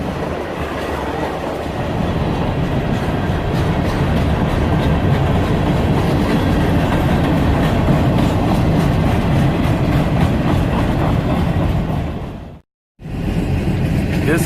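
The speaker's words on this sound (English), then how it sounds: "This could end up being the world's longest train." A long train rolls past close by at steady loudness, its wheels clacking continuously over the rails for more than twelve seconds before a brief sudden gap.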